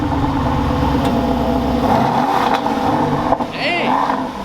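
An Aston Martin DB11 engine pulls hard from inside the cabin, a steady loud drone holding throughout with a brief dip near the end, while people talk over it.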